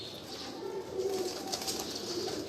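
A breeder pigeon on a rooftop coos in soft, low, repeated calls, close by, over faint outdoor background noise.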